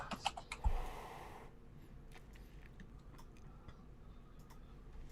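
Quiet, irregular clicks of keys tapping on a computer keyboard, soft and close, following a brief rustle at the start.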